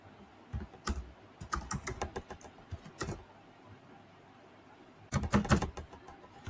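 A password is typed on a computer keyboard in quick, irregular bursts of close, crisp key clicks separated by short pauses, ending in a flurry of keystrokes; no voices.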